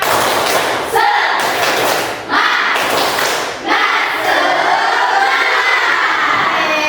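Classroom of students performing the 'tepuk semangat' clapping chant, loud group shouting and rhythmic claps in bursts with brief pauses, voices chanting together close by.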